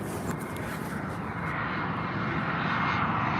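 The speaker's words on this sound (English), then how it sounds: "we've got a little private plane coming in now" A small private jet, a Cessna Citation, arriving at Manchester Airport, heard as a steady, continuous engine roar at moderate distance that swells slightly as it approaches, with no talk.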